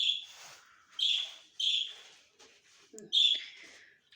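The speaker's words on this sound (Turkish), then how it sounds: "Kuşumuzu yeni yerine aldık arkadaşlar. Nasıl ötüyor" A caged pet bird, just moved to a new spot in the home, sings a series of bright, high chirps and tweets in short repeated bursts, fairly soft, with quiet household noise between them.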